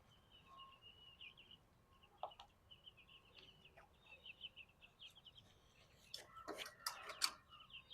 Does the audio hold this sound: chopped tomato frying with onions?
no